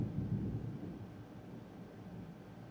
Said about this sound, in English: Really hearing the thunder right now.